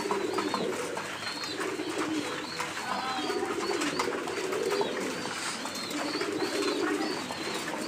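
Bombay yellow pigeons coo repeatedly while pecking at grit, their low rolling calls coming in steady waves with scattered chirps from other birds behind them.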